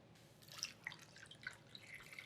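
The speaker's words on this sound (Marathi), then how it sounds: "पाणी घालायचं" Faint trickling and dripping water poured into a pressure cooker with potatoes, like a small pour into a metal pot, quiet and close with scattered bright drips.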